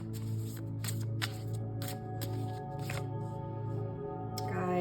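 Oracle cards being shuffled by hand, a soft riffling patter in several quick bursts over a steady low hum, close and quiet, with no talking.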